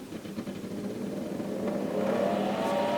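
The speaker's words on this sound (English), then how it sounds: "check out that fan" A cooling fan in a Valhalla 2500EP current calibrator spins up after power-on, a rising whirring drone that builds steadily in pitch and loudness over a few seconds, close and continuous.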